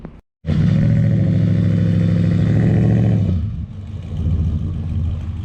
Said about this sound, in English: So we'll get a sound clip with that new exhaust